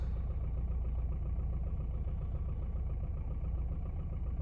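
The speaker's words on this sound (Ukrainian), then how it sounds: "якщо прислухатись уважно, то трошечки ривками працює мотор" A 1.7 diesel engine idles unevenly with a low, continuous rumble and slight irregular pulsing, close and fairly loud, with no voices.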